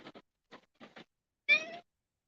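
Several short meows from cats, including kittens and an adult male, come in quick separate bursts, with a longer, louder meow near the end, close by in a quiet room.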